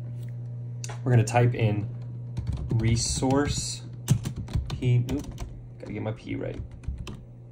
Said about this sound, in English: We're going to type in resource